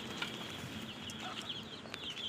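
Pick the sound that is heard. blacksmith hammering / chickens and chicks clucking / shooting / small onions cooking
chickens and chicks clucking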